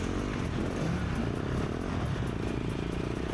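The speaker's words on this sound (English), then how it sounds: "I'm going to start my bike up here and give it a couple revs" A dirt bike prepared for harescramble racing runs with a steady, loud engine drone and rough mechanical clatter throughout, close to the microphone.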